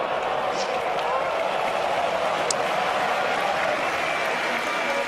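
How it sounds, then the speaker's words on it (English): A crowd applauds a Hawkeye line call at the 2017 Asia Championships badminton final, a dense, steady wash of clapping that fills the arena for several seconds. "the Hawk gets applause from the crowd"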